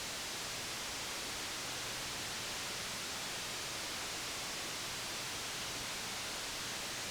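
Steady, dense hiss of synthesized noise with reverb from an Elektron Analog RYTM, broad and wide, holding unchanged for several seconds without any other sound.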